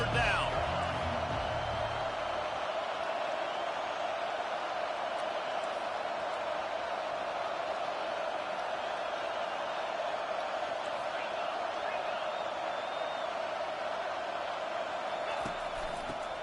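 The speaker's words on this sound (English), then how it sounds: "Decibels rising as the crowd gets behind this defense on 3rd down." A stadium crowd at a Vols vs Gators college football game roars behind the defense on third down: a dense, sustained wall of noise at constant loudness, with speech running over it.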